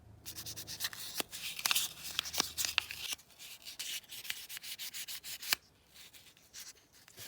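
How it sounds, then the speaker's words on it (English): Quiet, uneven scratchy rubbing of emery paper on the rusty metal axles of a die-cast toy car, in short irregular strokes with brief pauses, close up and alone. "I'm just going to rub it off with a bit of like emery paper"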